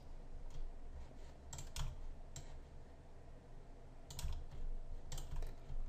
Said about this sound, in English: Just hitting backspace on my keyboard repeatedly.